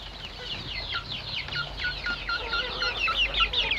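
A crowd of tiny newly hatched chickens peeps continuously in high, rapid chirps, many overlapping calls close by with a soft low hum underneath.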